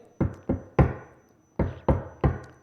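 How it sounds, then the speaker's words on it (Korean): Six hard knocks on a wooden door, struck in two sets of three with a fist, each sharp thud ringing briefly; loud and close with nothing else around them. "노크 소리죠."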